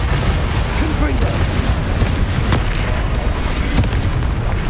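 Confringo explosive spell in the video game Hogwarts Legacy, dense booming blasts and rumbling bursts layered over a loud, continuous battle soundscape with a couple of sharper hits standing out.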